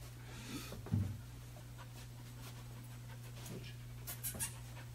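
A bed bug detection dog pants quietly while searching, rapid soft breaths, with faint scuffs and a steady low hum in the background.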